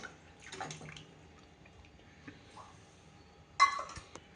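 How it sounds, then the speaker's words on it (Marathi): Water is poured into a pot of cooked dal for ridge gourd amti, coming in short splashy bursts with clinks from a bowl. A final louder pour lands near the end in an otherwise quiet kitchen. "पाणी घालते वरणाच्या वाटीत घालून."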